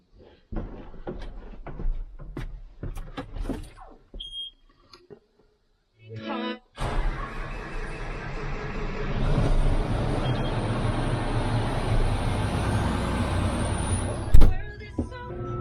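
A combine harvester starts up on a farm after a few knocks and clunks, then its engine settles into a loud, steady roar with a hissing, whining top, close by, with a sharp clank near the end.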